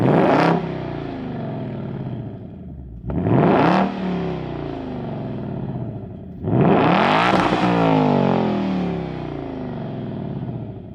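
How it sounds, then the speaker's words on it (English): A 2024 Ford Mustang GT's Coyote 5-liter V8 revs three times outside the car, each loud sharp burst rising and falling back to a deep, thumping idle between blips. "It's got this nice like thump to it, this Coyote 5-liter V8. Let's listen to it from the outside."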